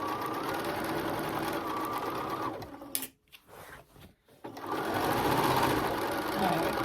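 A sewing machine stitches steadily around the edge of a pillowcase, a close, even mechanical whir that stops briefly for a few seconds of quiet handling before the stitching resumes at full speed.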